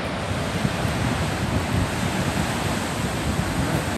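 Surf and wind at Agate Beach, Patrick's Point State Park, in January: a steady, dense roar of breaking waves mixed with gusty wind buffeting the microphone, continuous and loud throughout with no voices.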